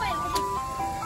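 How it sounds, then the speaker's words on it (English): Ice cream truck jingle playing a steady melodic tune, fairly clear, with background street noise and a brief bright burst partway through. "Ice cream truck."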